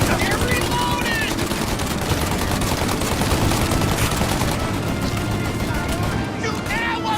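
Shootout in the game Mafia, with dense, continuous gunfire, rapid close shots hammering without a break, and shouted voices over the top.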